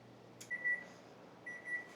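Two short bursts of a kitchen oven timer beeping while a cream cheese dip bakes, each a quick run of high, steady electronic tones, heard close and moderately loud over a quiet room hum.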